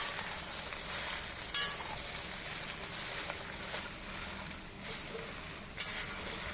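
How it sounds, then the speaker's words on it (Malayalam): Sambar powder ingredients such as coriander, fenugreek and lentils being stirred in a dry pan over a medium flame: a continuous faint rustling and scraping, with a few sharper clinks of the spoon against the pan. "ബാക്കിയുള്ള ഇൻഗ്രീഡിയൻസ് കൂടി ചേർത്ത് നല്ലവണ്ണം ഇളക്കുക"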